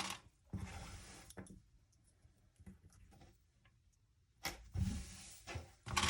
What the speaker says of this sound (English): we're going to sew all the way down, lining up the fabric edge to the edge of my foot